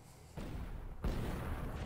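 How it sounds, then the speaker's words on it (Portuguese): Gunfire from Counter-Strike on the Inferno map during a professional NIP vs MOUZ match at the PGL Major Stockholm 2021: two loud, booming shot bursts, one near the start and one midway, over a continuous dense game-sound bed. "Olha só os disparos do Rampos aqui."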